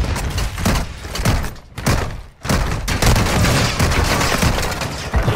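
Loud, close bursts of video game gunfire with heavy booming impacts, shots coming in quick volleys with a few brief gaps between them.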